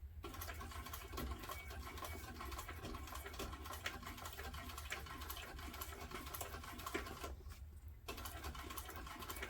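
A sewing machine runs steadily along a fleece tote seam, a quiet continuous motor hum with needle chatter and a brief pause near the end.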